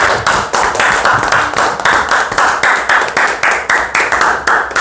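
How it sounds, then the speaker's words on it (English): A group at a teacher training workshop claps in unison, sharp loud claps falling in a quick, regular rhythm with short pauses between them, close by and alone. "let's just start today's training with a little clap for morale"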